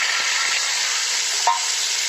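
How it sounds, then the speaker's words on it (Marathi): A hot mustard-seed and cumin tempering is poured over a stuffed brinjal dish and sizzles with a steady, close, broadband hiss for the whole two seconds. A faint clink sounds midway. "आता हे फोडणीचा सगळ्या याच्यामध्ये टाकायचं"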